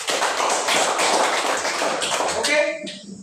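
A classroom of students claps for a group together: dense, rapid, close applause that stops abruptly at the end, with voices mixed in.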